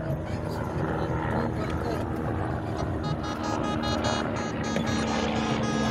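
A low, steady rotor drone of a helicopter passing overhead at Nature Park, Kolkata, continuous throughout, with people talking beneath it.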